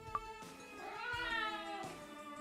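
A cat in the Obey Me! Nightbringer game gives a clear drawn-out meow after a short click, the cry rising and falling with no voices present.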